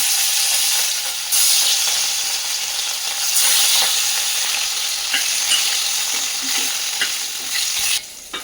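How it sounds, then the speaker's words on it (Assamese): Fish frying in hot oil in a home kitchen, a steady loud sizzle and hiss throughout with occasional crackles and pops, no talking. "তাৰপিছতে মাছকণ ভাজি লওঁ"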